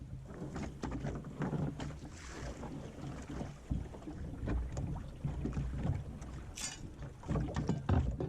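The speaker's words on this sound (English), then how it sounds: "You can probably hear the winds come up a little bit." Wind gusts across an open beach, buffeting the microphone with a continuous, uneven low roar and rustle that rises and falls.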